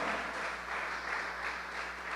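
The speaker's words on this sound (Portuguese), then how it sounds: "Vamos aplaudir o Senhor." A church congregation claps steadily for a couple of seconds during a sermon, a soft, even patter heard from some distance.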